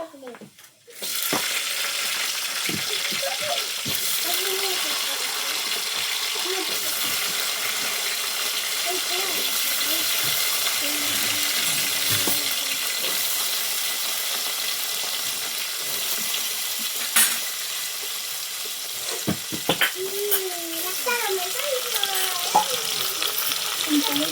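Whole gunda (lasoda) fruit and cumin seeds frying in hot oil for a Gujarati vegetable dish, giving a steady loud sizzle and crackle throughout, with occasional stirring knocks and a voice talking at times over it.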